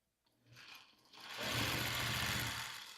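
Domestic sewing machine stitching pale blue quilt fabric pieces for scrappy hourglass quilt blocks, a steady mechanical whirring hum that starts briefly, pauses, then runs continuously and close for a couple of seconds.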